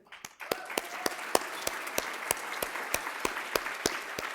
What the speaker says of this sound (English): a great applause to Dos Mundos